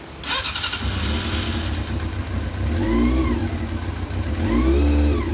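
A Honda CB400 motorcycle engine, run without coolant, sputters to life and keeps running, revving up and down, close by and loud, with no talking.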